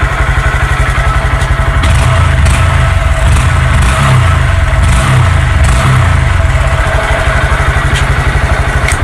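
A Honda Grom motorcycle on its stock exhaust runs loud and close, with a steady, throbbing low rumble that holds even throughout, with no clear rise in revs.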